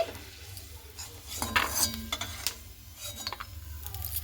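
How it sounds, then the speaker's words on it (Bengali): Fried peanuts are lifted out of hot oil, with metal utensil clinks and scraping against the pan over a light sizzle, busiest in the middle and continuing irregularly to the end. "বাদামটা কিন্তু আমার ভাজানো হয়ে গেছে এবার আমি এবার তেল ঝাড়ি ঝাড়ি উঠিয়ে নিচ্ছি"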